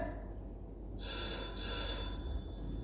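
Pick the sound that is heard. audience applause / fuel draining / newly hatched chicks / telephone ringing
telephone ringing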